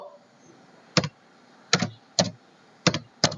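Five separate key presses on a computer keyboard, tapped out at an uneven pace while a DOS command is typed on a laptop; each keystroke is close, crisp and isolated, with quiet gaps between them and no talking.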